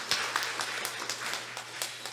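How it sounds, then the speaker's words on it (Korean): A church congregation at a Sunday worship service claps in quiet, scattered applause, with individual hand claps standing out against a low hum and no talking over it. "우리 하나님 앞에 영광의 박수, 우리 사모님에게 격려의 박수 드립니다"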